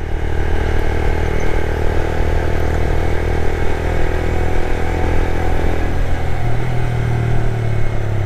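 A new motorcycle rides along at a steady throttle, its mid-pitched engine droning loudly and continuously with road rumble and a slight rise in pitch near the end.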